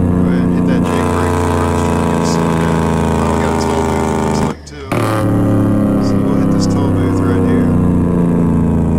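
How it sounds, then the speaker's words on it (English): A custom Peterbilt 379 truck engine in American Truck Simulator drones with a deep, rapid staccato rumble as the jake brake engages, steady and loud apart from a brief drop midway. "Go ahead and hit that jake brake."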